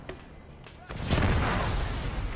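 A large explosion booms in the military shooter Arma 3 after a quieter stretch, a loud close blast with a long rumbling tail, and a voice is faintly audible underneath.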